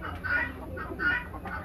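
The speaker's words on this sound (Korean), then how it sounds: "여기는 닭을 보러 왔습니다" Two short bursts of white chickens clucking, close by at an egg-gathering farm, with a low, steady background rumble.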